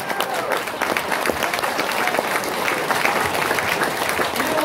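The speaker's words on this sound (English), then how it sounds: "I can't believe I just got a round of applause for not doing the movie" A convention panel audience claps, a steady wash of applause that stays level throughout and swells slightly at the very end.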